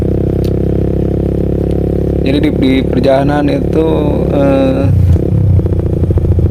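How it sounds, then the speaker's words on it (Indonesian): A motorcycle fitted with a racing exhaust rumbles steadily while riding, its low engine drone continuing throughout beneath someone talking over it. "Kalau pakai knalpot racing ini serasa ada teman gitu guys ya."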